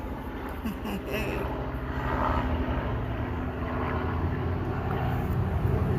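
A steady helicopter drone fills the background, a rotor hum passing overhead at moderate loudness with a faint rhythmic texture beneath.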